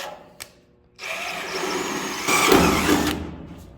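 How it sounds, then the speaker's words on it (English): A power drill whines up and bites into sheet metal on a 1972 Chevrolet Blazer rear quarter panel, drilling a pilot hole through a spot weld, the pitch straining and rising as it cuts, close by, with a brief click before it starts. "So I'm going to drill a pilot hole"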